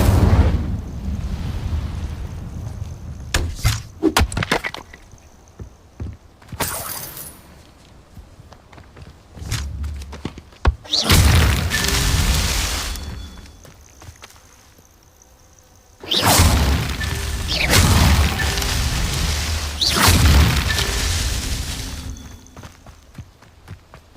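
Incendio fire spells are cast in the Hogwarts video game. Several loud, roaring blasts of flame, each lasting a few seconds, come between quieter stretches that hold scattered footsteps and sharp whooshes.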